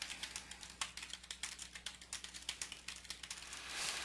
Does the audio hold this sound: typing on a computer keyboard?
yes